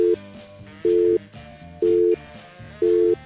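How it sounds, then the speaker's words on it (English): A recorded telephone busy signal plays as a steady tone that repeats in even on-off pulses, about once a second. A fuller, muddier background sound runs underneath it. "So naturally, I had to dial my own number to hear the new busy signal, which I fully expected would sound like this."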